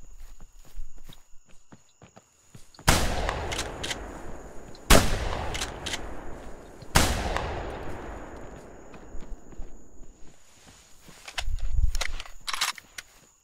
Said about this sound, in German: Jetzt versuchen wir, hier nochmal einen wegzuschießen.